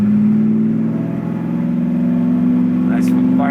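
A 1968 Camaro SS V8 holds a loud, steady, throaty rumble close by, with a slight rise in pitch near the end. Voices come in faintly over the engine.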